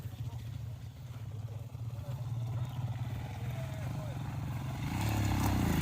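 An off-road motorcycle engine drones steadily through trail riding, a low rumbling that swells louder toward the end, with voices talking over it.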